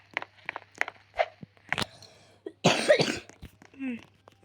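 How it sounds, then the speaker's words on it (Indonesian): A burst of harsh coughing, close and loud, amid scattered short mouth and throat noises, followed by a brief tonal vocal sound. "Lagi batuk guys."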